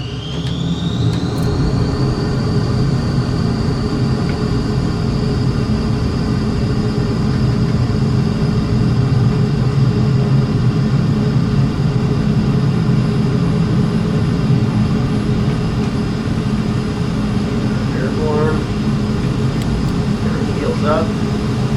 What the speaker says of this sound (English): Release our parking brake and throttle up